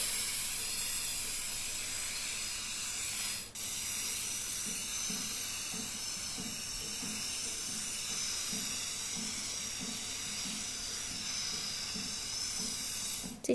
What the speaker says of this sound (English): You get to like spray paint it.